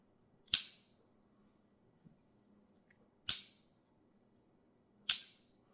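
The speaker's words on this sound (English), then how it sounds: "let y'all hear this lock. Like a bolt." A Case XX-Changer pocketknife closing and locking, giving three sharp, crisp metallic clicks spaced a few seconds apart, close and distinct against near silence.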